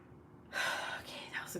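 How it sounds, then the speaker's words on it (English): A person lets out a single long, drawn-out breathy yawn, starting suddenly after a quiet moment and tapering off over about a second. "I gotta yawn."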